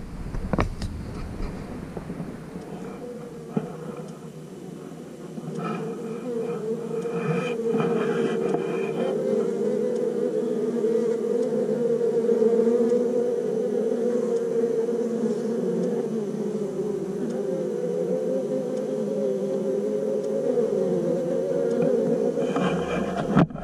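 Honeybees buzz around a hive in early spring, a soft hum that swells after a few seconds into a dense, steady drone of many insects close by.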